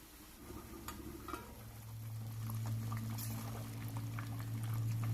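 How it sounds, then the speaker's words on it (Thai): A pot of Thai coconut curry bubbles and simmers steadily, a low rolling boil with faint hissing that grows slightly louder over a few seconds, no voices. "เมื่อน้ำเดือดขึ้นมาทุกอย่างสุกแล้วนะคะ"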